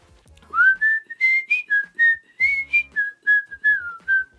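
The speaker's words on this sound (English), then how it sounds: "I really loved when the whistles came in." Melodic whistling from a pop song, a clear sequence of about a dozen short pitched whistled notes in a lilting rhythm, close and alone.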